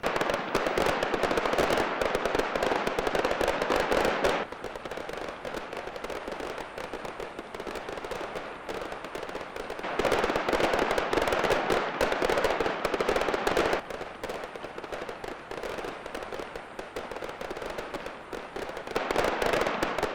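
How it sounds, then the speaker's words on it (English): Fireworks burst at a Hadrian's Wall lighting celebration near Bowness-on-Solway, a dense crackling barrage that comes in long loud waves with brief lulls between them. "the line of light arrived and the fireworks began"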